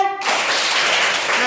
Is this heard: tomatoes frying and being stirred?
no